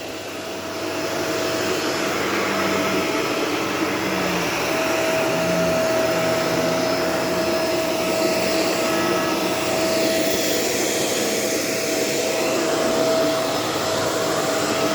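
A Shark Rotator Professional swivel vacuum cleaner runs steadily, a loud continuous whirring roar with a high motor whine that starts after a brief moment and holds unbroken throughout, close and alone.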